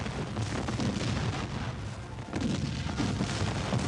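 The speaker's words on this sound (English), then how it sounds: "At 1 o'clock, Lee's cannon opened with a tremendous barrage of missiles." Confederate cannon barrage at Gettysburg, a dense, continuous rumble of artillery fire and booms rolling without pause, loud and sustained with a brief dip midway before swelling again.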